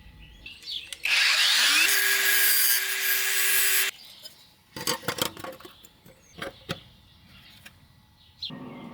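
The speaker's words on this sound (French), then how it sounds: "Reste plus qu'à découper une tôle pour boucher ça." Sheet metal panel being cut to patch a hole in a 1991 Peugeot 605 3.0, a loud continuous harsh grinding-cutting burst lasting about three seconds, followed by scattered scraping and clattering handling noises.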